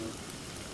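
Steady rain falls in an animated cartoon scene, a dense, even hiss of drops with no talking over it.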